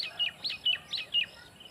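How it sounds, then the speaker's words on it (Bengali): Small birds chirp in village fields, a quick run of about six bright tweets in close succession, fairly faint against a quiet background. "পাখির কিচিরমিচির শুনতে পাচ্ছেন।"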